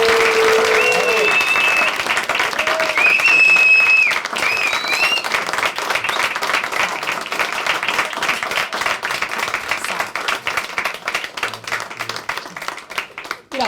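A stand-up comedy audience claps at the close of a Hidayet Tılı show, producing a dense, sustained roar of applause with scattered whistles and cheers early on that thins gradually over about fourteen seconds.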